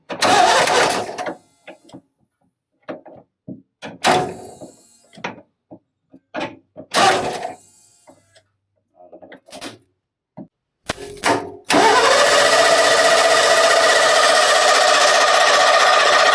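A 1989 Ford F150 pickup, a barn find, cranks in short stuttering bursts with pauses between, then catches and settles into a loud steady run close by.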